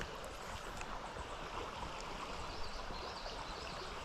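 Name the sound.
fast-moving water in spring-fed creek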